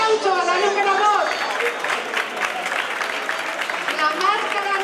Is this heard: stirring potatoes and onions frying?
no